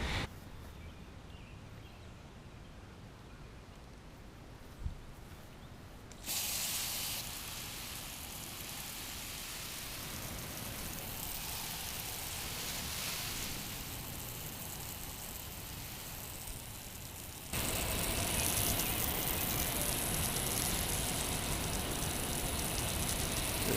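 A soft, steady rain-like patter of compost tea spraying from a watering can onto plants, hissing continuously and growing louder in stages, with no voices.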